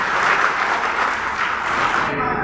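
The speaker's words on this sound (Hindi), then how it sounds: "एक बार अपने लिए आप एक बार जोरदार ताली बजाने का काम करें।" A large crowd at a BSP political rally marking Dr. B.R. Ambedkar's birthday applauds loudly, a thick, sustained roar of clapping that holds steady and then cuts off abruptly near the end.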